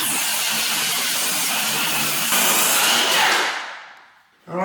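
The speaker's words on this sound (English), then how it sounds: "Much easier and faster to use a circular saw than a planer. Just line it up nicely and just cut that all the way down." A circular saw cutting along the back edge of a door, a loud steady high whine through the wood that lifts slightly near the end, then spins down and fades before a brief clunk.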